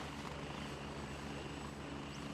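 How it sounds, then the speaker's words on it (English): Helicopter from the video game Gray Zone Warfare droning steadily throughout, a continuous rotor and engine hum filling the scene at moderate level with no speech over it. "I hear everything, that chopper."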